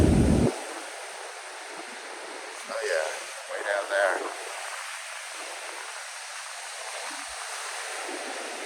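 Ocean waves wash over a sandy beach in a steady, broad rush of surf with wind noise, and a voice briefly speaks partway through.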